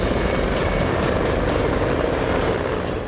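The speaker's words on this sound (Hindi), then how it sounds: "अलुप्का तट पर रूसी नौसेना के Mi-24 क्रोकोडाइल हेलीकॉप्टर गश्त लगा रहे हैं।" A steady, loud rotor drone from a Russian Navy Mi-24 Crocodile helicopter on patrol along the Alupka coast, with faint periodic blade thumps running through the whole stretch.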